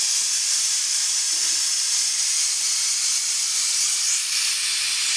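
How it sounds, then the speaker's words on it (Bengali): Steady, loud hiss of steam escaping a pressure cooker boiling soaked lentils, a continuous close rush of noise with no break. "ডালটা সিদ্ধ হয়ে গেছে, সিটি পড়ছে, সিদ্ধ হয়ে গেছে।"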